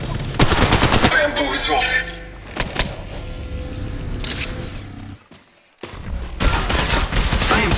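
Loud bursts of automatic gunfire in the video game Apex Legends Mobile, dense rapid volleys that pause briefly and then resume, with a short spoken word in between.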